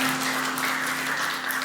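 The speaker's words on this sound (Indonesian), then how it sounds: "Beri tepuk tangan bagi Tuhan Allah kita." A church congregation at a Sunday service applauds, a continuous wash of many hands clapping at steady loudness, with a sustained low tone humming beneath it.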